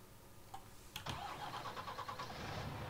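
A vehicle engine cranks and catches in Farming Simulator 19, a short starter whir and ignition burst settling into a steady mid-pitched idle rumble, with no talking.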